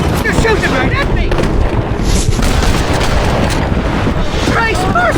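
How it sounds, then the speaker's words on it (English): Heavy gunfire and booming blasts in the Red Dead Redemption video game roar continuously and loud throughout, with whistling and ringing effects layered over the dense, close barrage. "They're shooting right at me!"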